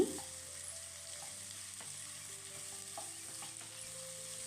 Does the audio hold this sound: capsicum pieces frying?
yes